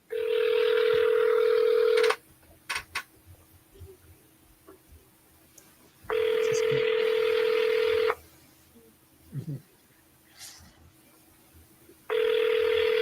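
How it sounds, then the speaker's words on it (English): A telephone rings on an outgoing call, producing three long, loud, steady ringback tones about four seconds apart, with quiet gaps and faint background sounds in between. "Let's see if I can get them on the phone."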